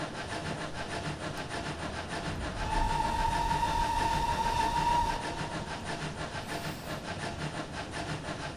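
Cab ride on a Pannier tank steam locomotive, with a steady rumbling, rhythmic running noise throughout and a sustained whistle-like tone swelling in the middle for a couple of seconds.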